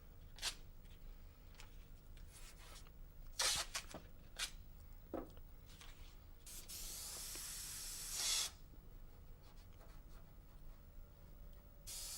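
Airbrush at 40 PSI laying down bright white custom paint thinned with reducer: a few short hissing bursts, then a longer steady spray of about two seconds, close up, between quiet handling noises.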